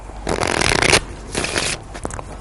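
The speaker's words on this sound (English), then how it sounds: "a quick shuffle" A deck of playing cards riffled in two quick bursts, a crisp fluttering rush each time, close up with no talking.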